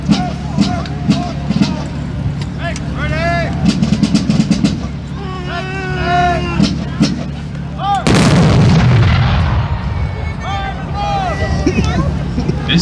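Loud volleys of musket fire from a Battle of Camden reenactment, with a big blast near the middle followed by rumbling echo, amid shouted commands and crowd chatter throughout.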